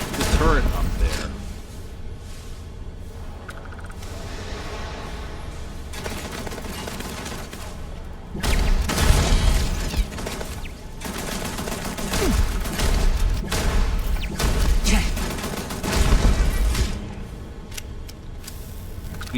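A turret in the video game Starfield fires loud, rapid bursts of gunfire in repeated volleys, joined by booms and mechanical clatter, while a player talks at times.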